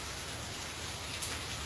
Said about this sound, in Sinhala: මේ දැනුත් වහිනවා මේ වීඩියෝ එක දානකොට